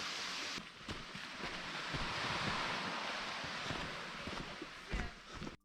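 Surf rolls and washes at Freedom Beach in Phuket, Thailand, as a broad continuous roar mixed with gusty wind buffeting the microphone, loud and close throughout.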